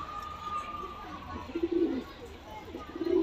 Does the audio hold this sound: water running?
no